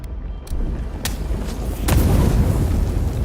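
Fire springing up in the fantasy game Avowed: a deep boom followed by a rising, rumbling roar of flames, with a second heavier burst near the end and a sustained low crackle throughout.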